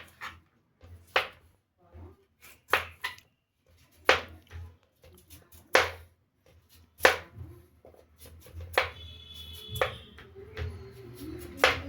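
Banana stem being peeled and cut by hand in a village kitchen: a series of sharp, irregular cutting and snapping strokes, close and distinct, followed by softer fibrous rustling and shuffling.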